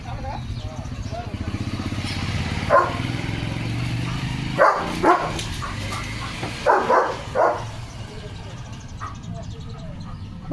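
A German shepherd dog barks several times in short bursts over a running engine hum, moderately near, with people talking at times.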